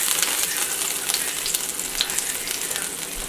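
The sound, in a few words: maple garlic pork sauce sizzling in a pan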